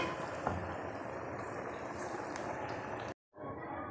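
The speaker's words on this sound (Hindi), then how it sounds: "अब हम डाल रहे हैं वो पकौड़े निकालने के बाद दूसरे, इसी तरह से फ्राई करते जाएंगे" Pakoras, fritters flavoured with fenugreek, frying in hot oil with a steady, close, loud sizzle that cuts out abruptly near the end and then returns.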